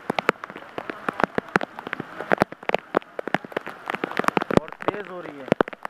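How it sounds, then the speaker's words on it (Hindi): Rain falling again on a flooded area, with sharp drops striking surfaces in a steady dense patter, close and fairly loud throughout, with faint speech audible underneath. "ये देखें नाज़रीन, दोबारा बारिश शुरू हो चुकी है"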